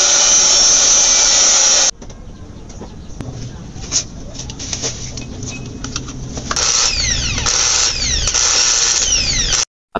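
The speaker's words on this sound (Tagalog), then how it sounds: "umaandar na siya ulit kaya tuloy na ulit ang pagbubutas dito sa rim set" A loud electric drill whines steadily, cuts out, then grinds against a 72-spoke motorcycle wheel rim in bursts before revving up again near the end.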